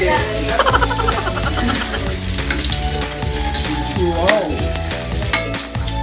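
Lumpiang shanghai frying in cooking oil, a steady close sizzle and crackle that runs throughout, with occasional clatter from stirring and a voice talking over it.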